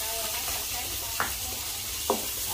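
Bánh xèo, a Vietnamese Mekong Delta-style crispy pancake, sizzles steadily in a hot pan, a constant close hiss broken by two brief scraping stirs.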